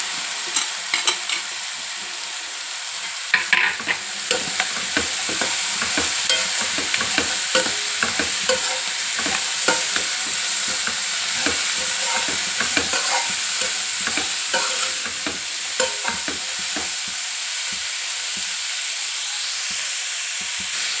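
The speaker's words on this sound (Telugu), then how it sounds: "ఒక 2 నిమిషాలు నూనెలో వేగనిద్దాం చిక్కుడుగాయ." Cut broad beans (chikkudukaya) fry in oil in a pan, a loud continuous sizzle and crackle with frequent stirring clicks and scrapes running throughout.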